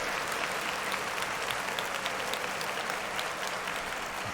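Steady, dense applause from a crowd fills the whole stretch, loud and continuous with no voices rising above it.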